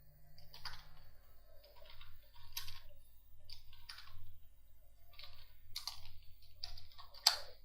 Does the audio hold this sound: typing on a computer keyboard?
yes